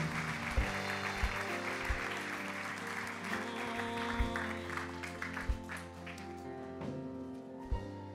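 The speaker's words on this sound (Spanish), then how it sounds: "Denle un aplauso." Church congregation clapping during a Spanish and English sermon, a soft spatter of applause over a sustained organ or keyboard chord with regular low thumps, moderately distant and fairly quiet.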